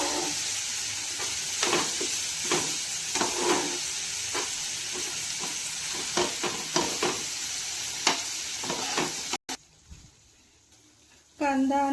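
Softened onion and tomato are mashed in a frying pan, with repeated scraping and pressing strokes over a steady sizzle, then a brief pause before a voice begins speaking.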